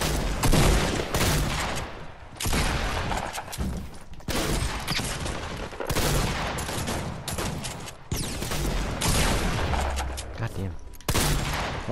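Rapid gunfire from the video game Fortnite crackles almost continuously in dense bursts with brief gaps, loud and close, with players talking over it at times.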